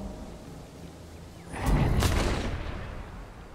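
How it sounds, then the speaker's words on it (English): Gunshot in The Walking Dead: Saints & Sinners, a single sharp crack partway through that rolls off into a longer muffled rumble, heard at moderate distance over a steady low game ambience. "I heard a gunshot."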